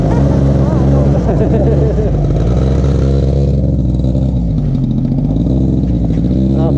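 Quad bike engine running and revving steadily up close, a continuous low drone with harmonic rumble that stays loud throughout while people talk over it.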